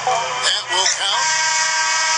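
End-of-quarter buzzer in an NBA 2K20 Mobile basketball game, a loud sustained electronic buzz that runs through the whole clip with a brief dip partway, mixed with broadcast-style game audio.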